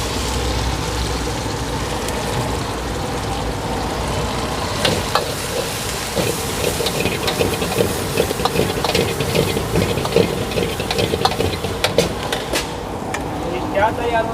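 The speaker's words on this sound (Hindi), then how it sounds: "पहले गार्लिक सौते करने के बाद फिर हम डालेंगे इसकी वेजीज" Garlic and vegetables sautéing in a hot wok at a Chinese food dhaba, a loud steady sizzle and frying hiss with scraping stirring strokes, while people talk over it.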